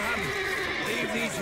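A horse whinnies in The Witcher 3: Wild Hunt, its neigh rising and falling over steady background music and effects, with some talking mixed in.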